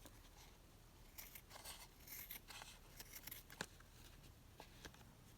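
Scissors snip through black lace in a quiet room, making a run of short, crisp cuts. The snips come close together in small bursts, some louder than others.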